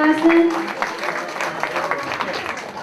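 A crowd gives a round of applause at a church feast celebration in Chicago, steady clapping lasting about three seconds with a brief held tone near the start and voices mixed in underneath.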